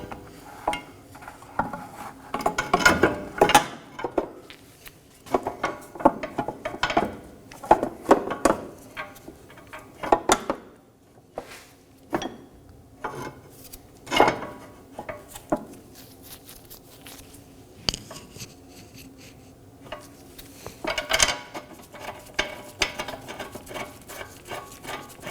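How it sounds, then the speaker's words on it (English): Metal parts click and clink in hand during work on a 2018-2024 Toyota Camry rear trailing arm, with knuckle bolts being threaded on. Short scattered metallic taps and scrapes come close and fairly loud, with no talking. "I'm going to start off by hand threading on our knuckle bolts."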